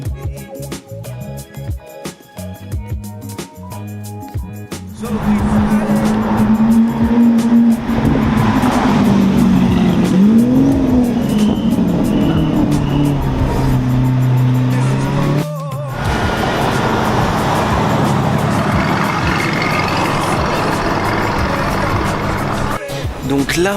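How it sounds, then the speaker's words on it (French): Car engine fitted with an SVR titanium exhaust at the Zoute GP, a loud rough roar that rises and revs for several seconds, then holds a steady rumble, with people talking faintly nearby. "Pot en titane SVR. Ça rend super bien."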